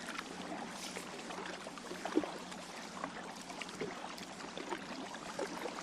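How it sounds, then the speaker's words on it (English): Kayak paddle dipping and pulling through open water, faint soft splashes and trickles at an irregular rhythm over a quiet low background hum. "of my paddle going through the water, of the kayak gliding through the water"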